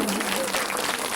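An audience at a women's Ramayana recitation gathering in a village claps steadily and densely, a close, continuous wash of applause with no pauses.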